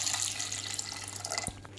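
Water is poured from a glass into a pressure cooker holding Alfonso mangoes and raw mangoes, a steady close splashing stream with no voices.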